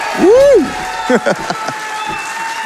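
A live audience at the Summer Games Done Quick 2024 charity speedrun marathon cheers during a Hollow Knight run; one loud rising whoop stands out, followed by scattered shouts over a steady crowd roar.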